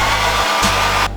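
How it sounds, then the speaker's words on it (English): A hairdryer blows steadily and loudly over skateboard scooter grip tape, a continuous close whoosh with one brief dip before it winds down at the end. "just going over it with the hairdryer"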